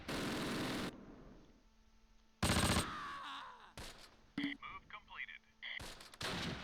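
Close Combat combat in Normandy near Hill 314 brings loud bursts of gunfire and explosions close by, separated by quieter stretches and scattered smaller reports.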